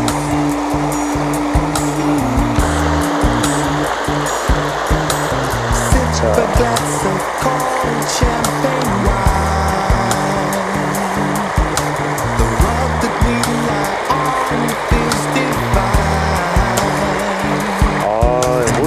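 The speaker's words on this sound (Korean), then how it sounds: "아, 이 폭포의 소리." Steady, loud rushing of a waterfall fills the whole stretch, a dense continuous roar with a brief spoken word over it.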